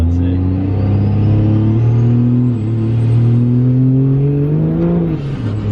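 An 800-horsepower Cummins diesel truck engine revs for the first time, a loud, close, steady droning growl that climbs slowly in pitch as the turbo spools, then dips near the end.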